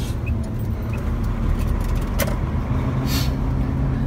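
Truck with a Roadranger gearbox cornering, its engine a steady low rumble throughout with a brief rev-like swell near the end, no talking over it.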